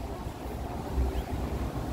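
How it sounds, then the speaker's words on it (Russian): Wind buffets the microphone in low, rumbling gusts that blow steadily for a couple of seconds with no voices, outdoors in Lviv. "снова ветер правит нашими прическами"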